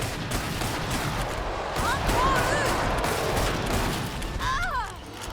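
A Winchester 1894 lever-action rifle fires in Killing Floor 2 amid dense combat: rapid, crackling shots and clatter layered into a continuous loud battle din, with brief high squeals overhead and a voice talking in the mix.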